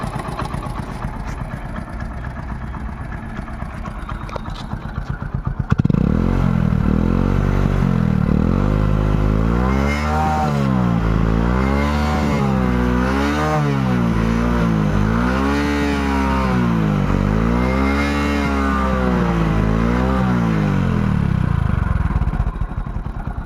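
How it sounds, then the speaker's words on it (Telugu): A Hero HF Deluxe motorcycle engine idles roughly, then fires up louder and revs repeatedly in rising and falling surges, close by and steady for a long stretch. "ఇంజన్ స్టార్టింగ్లో ఉంది చూడండి"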